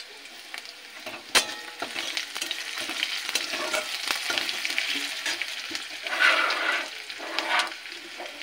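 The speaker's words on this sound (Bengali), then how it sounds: "পেঁয়াজটা একটু ভাজা হয়ে গেছে। এবার দেবো গ্রেট করা আদা" Onion and grated ginger frying in a pan for a beetroot and carrot curry, a steady soft sizzle with stirring scrapes and a couple of louder hissing bursts near the end.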